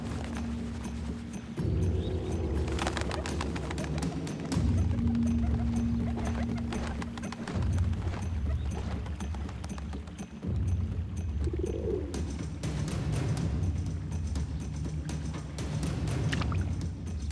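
Pigeons cooing on a stony river beach, soft repeated coos mixed with irregular clattering footsteps or wing flutters, moderately close in an open outdoor setting with no voices.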